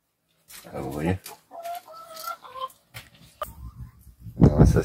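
Hens cluck and cackle close by in short, uneven bursts separated by brief quiet gaps.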